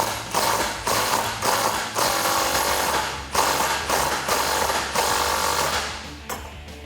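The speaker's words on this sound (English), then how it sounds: "We can take our provided lag screw and a 13mm socket and an impact wrench. And we can tighten that up and down into place." An impact wrench with a 13mm socket drives a lag screw while fitting a door holder on a Jeep Wrangler JK, loud hammering bursts in several runs separated by brief pauses.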